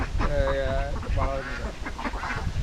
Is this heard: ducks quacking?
yes